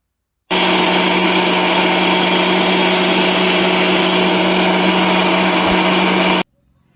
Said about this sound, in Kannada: ಇದನ್ನೆಲ್ಲ ಒಂದು ಮಿಕ್ಸರ್ ಗ್ರೈಂಡ್ಗೆ ಹಾಕ್ಕೊಂಡು ನೈಸಾಗಿ ರುಬ್ಕೊಳ್ಳಿ